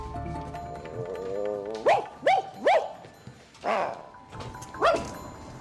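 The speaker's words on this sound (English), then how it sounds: "Is that a very high-strung little lab dog?" A small, high-strung Labrador-type dog gives about five sharp, yelping barks spaced over several seconds, fairly close, after a whining tonal sound at the start.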